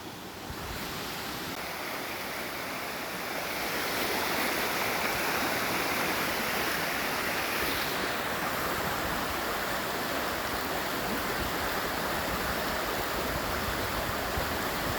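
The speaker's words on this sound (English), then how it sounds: "So I think that's just draining from the field." Floodwater from a creek after flooding drains through rock, making a steady, loud rushing wash that swells after the first few seconds and runs on without a break, with no voices.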